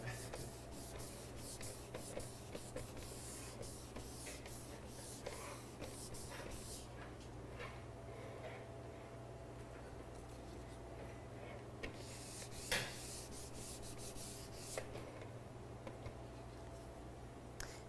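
Fondant on a cake is buffed with the cardboard lid of a cake box, giving a very faint, soft, continuous rubbing hiss with light scuffs over low background hum.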